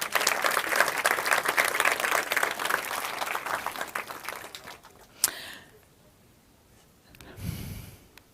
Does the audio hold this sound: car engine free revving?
no